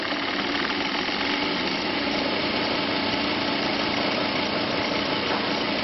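An AC motor on a rotary phase converter hums and whirs at a steady pitch, running continuously and evenly, close and moderately loud with no voices.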